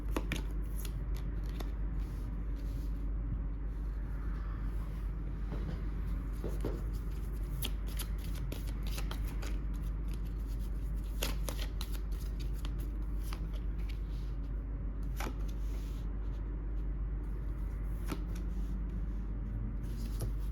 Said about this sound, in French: je vais tirer les cartes et puis je vais te dire